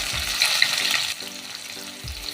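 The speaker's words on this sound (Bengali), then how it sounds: "এবার পেঁয়াজটা একটু ভেজে নেব" Chopped onions fry in oil with dried red chilli, cardamom, cloves, cinnamon, bay leaf and black pepper, a steady close sizzle with brief stirring scrapes.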